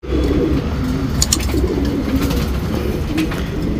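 A male tournament racing pigeon coos close by against a steady background of loud ambient noise. Soft low coos repeat through the noise, with a few brief higher chirps, and no one speaks.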